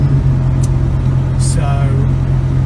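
Engine of a 1967 Volvo 122S Amazon Wagon while driving, a steady low hum from inside the car with occasional brief clicks and rattles.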